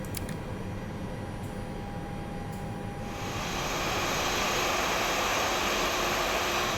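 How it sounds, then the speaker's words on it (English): An Airbus A320 jet engine spools up in the X-Plane flight simulator, a steady broadband whine that swells into a louder, brighter roar midway and then holds, with no talking. "Let's go ahead and start the engine number 1."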